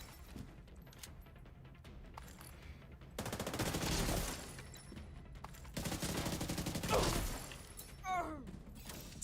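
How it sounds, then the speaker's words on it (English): Gunfire in The Division video game comes in two long, loud sustained bursts of automatic fire with scattered single shots and debris around them. A voice speaks briefly near the end. "Some shooting."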